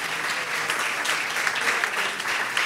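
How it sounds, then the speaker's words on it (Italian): A conference audience applauds itself, producing dense, steady clapping from many hands that fills the short clip without any speech over it. "vi va di fare un applauso a voi che siete qua in questo momento"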